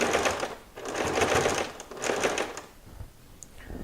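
A sewing machine stitches a cloth medical face mask in several close, rapid runs of motor whir and needle clatter, broken by brief pauses as the fabric is worked forward and back.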